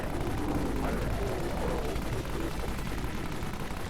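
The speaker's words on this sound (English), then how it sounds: "It is a machine gun" Rapid automatic gunfire from a machine gun in the zombie shooter Dead Frontier, a dense continuous rattle that runs steadily through the whole stretch at a fairly loud, close level with no talk over it.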